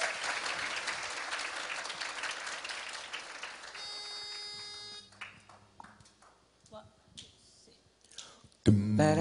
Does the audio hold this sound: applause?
yes